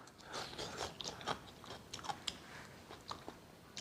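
Close, quiet chewing and crunching while eating a home-cooked winter melon dish, with soft irregular bites and mouth sounds repeating over a few seconds.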